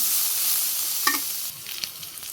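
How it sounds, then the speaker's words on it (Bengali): Onion, garlic and green chili fry in hot oil in a village kitchen, a constant sizzling hiss with a few scrapes and clinks of stirring. "পেঁয়াজ রসুন কাঁচামরিচ ভাজি হয়ে গেছে লাল লাল করে ভেজে নিলাম"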